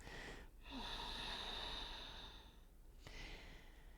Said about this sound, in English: that powerful Ujjayi exhale really helps